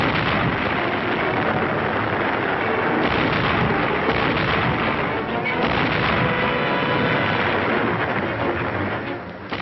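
An artillery battery, its gun called Glamour Gal, fires shells almost point-blank over the heads of infantry in a war film, a dense, continuous roar of overlapping blasts and rumbling booms that never lets up.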